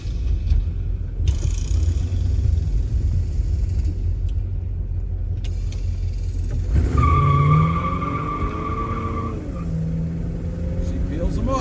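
A 1967 Pontiac GTO peels out, its heavy rumble joined by a sharp, rising tire squeal for a few seconds before settling back into a loud engine drone.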